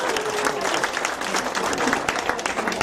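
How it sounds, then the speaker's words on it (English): A crowd at a community evening with the Las Vegas police sheriff and an Asian advisory council clapping their hands, a short burst of dense applause filling the room. "Everybody clap your hands."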